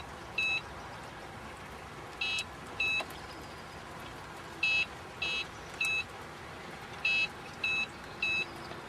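Several groups of short, clear electronic beeps from an AP900C cruise control unit during throttle pedal calibration, sounding in pairs and triplets with pauses between them over a quiet background hum.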